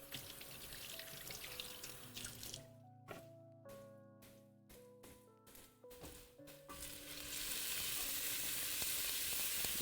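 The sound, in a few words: onion and pepper sizzling in a pan while stirred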